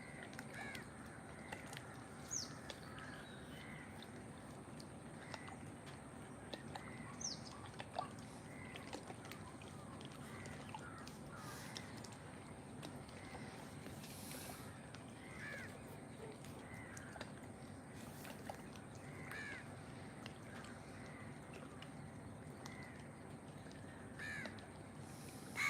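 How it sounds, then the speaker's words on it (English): Grey-necked crows caw repeatedly at dawn by Lake Vembanad, scattered harsh calls at moderate distance over a steady outdoor background hum, and a voice is heard faintly now and then. "local grey-necked crows."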